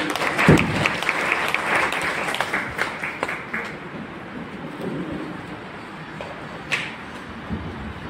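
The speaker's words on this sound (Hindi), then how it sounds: "आप सभी ताली से स्वागत करेंगे" An audience at a public event applauds to welcome a speaker: a loud burst of clapping at the start that thins into scattered claps and fades over several seconds, no talking.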